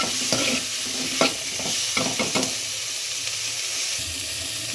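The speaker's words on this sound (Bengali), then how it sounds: "এদিকে কপিগুলো একটু লাল লাল করে ভেজে নেব।" Cauliflower pieces and onions fry in oil left over from frying fish, a steady close sizzle broken by a few sharp scrapes of stirring, with no one speaking.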